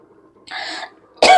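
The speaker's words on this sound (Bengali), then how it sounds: "বাবা হঠাৎ করে কাশি হচ্ছে কেন" A person coughs at close range: a short throaty rasp, a brief pause, then a louder, sharper cough, with no speech.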